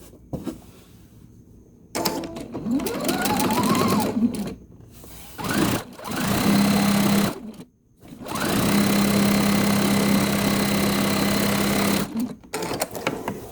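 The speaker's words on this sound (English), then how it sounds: "line my corners up here, and begin to quilt" A quilting machine stitches a potato chip quilt block in several loud, steady runs of rapid, whirring needle strokes, with short pauses between the bursts and quiet handling sounds.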